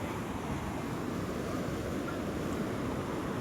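Sea waves at Madhavpur beach roll in as a steady, continuous wash of surf mixed with wind noise on the microphone, with no speech.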